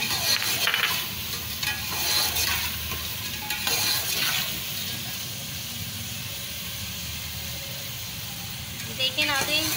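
Taro root pieces with green chillies fry in hot oil, giving a loud continuous sizzle and hiss. Stirring scrapes and clatters come and go throughout, with a voice talking over the cooking.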